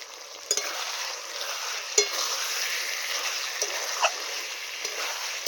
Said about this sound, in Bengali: এবার আলুটা দিয়ে একটু নাড়াচাড়া করে জল ঢেলে দেবো